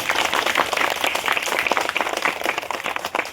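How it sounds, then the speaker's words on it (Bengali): A school audience gives a loud, sustained round of applause for a student being honored, dense overlapping clapping from many hands, steady and close throughout. "এইবার জোরে হাততালি হবে"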